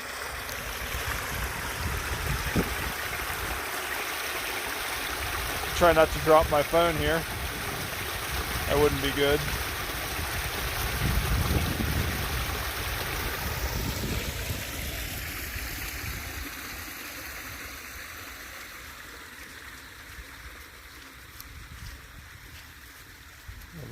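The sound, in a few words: spring flood water pouring out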